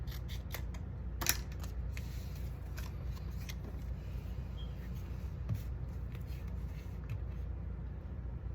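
Scissors snip through folded paper along a fold line while making a tiles masterboard, giving a steady run of crisp cutting clicks and rustles over a low background hum with no talking.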